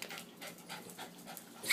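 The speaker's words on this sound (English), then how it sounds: "I think that dog either has a disease I think he was just thirsty." A thirsty dog pants in quick, rhythmic breaths close by, a short steady series of huffs with a faint whimper at the end.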